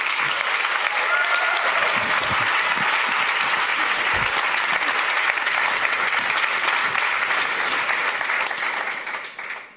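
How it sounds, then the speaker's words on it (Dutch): Audience applause at an Amsterdam municipal election debate event, sustained loud clapping from a packed hall that continues evenly for several seconds before fading out at the end. "Geef haar een warm applaus."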